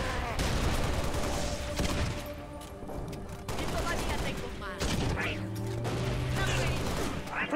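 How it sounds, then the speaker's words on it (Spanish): Gunfire in the Halo Reach video game, sustained bursts of shots and explosive booms filling the mix with a dense battle din, while a player talks over it. "¡Me están disparando!"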